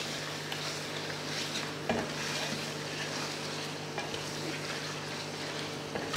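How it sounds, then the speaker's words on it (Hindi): Chicken frying with red chili powder and basic spices in a pot for Punjabi curry: a soft, steady sizzle close by, with a few occasional stirring scrapes and no talking. "चिकन भी अच्छी तरह से फ्राई होता जा रहा है साथ साथ"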